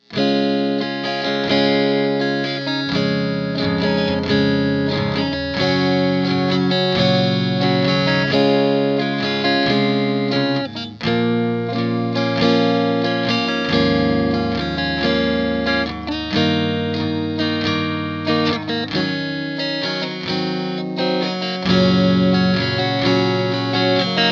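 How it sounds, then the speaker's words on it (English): Electric guitar strummed in full chords through the clean channel of a MESA/Boogie JP-2C amp, no effects, steady rhythmic strumming with ringing sustain and a touch of reverb, no talking. "Now I'll do a little bit of strumming."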